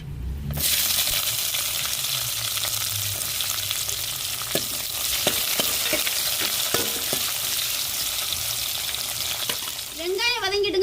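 Chopped onions and dried red chillies for sambar hit hot oil with a loud sudden sizzle that settles into a steady crackling fry, punctuated by sharp metallic taps of a spoon stirring the pan and a brief clatter at the end.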